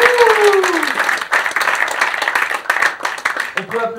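An audience at a French stage show claps loudly for a volunteer, the dense applause running throughout while a voice speaks over it.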